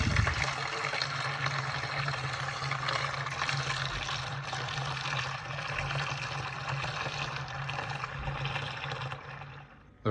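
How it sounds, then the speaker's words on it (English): Dark lager beer wort pours steadily into a sanitized fermenter during an extract brew, a continuous rushing, splashing stream of liquid lasting about ten seconds before briefly tapering off. "in a moment I will transfer it into a sanitized fermenter and then top up with spring water to 23 litres"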